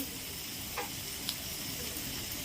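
Ground turmeric, cumin and coriander frying in a pan for prawn masala, a steady soft sizzle with a few faint clicks of stirring, close by with no voices.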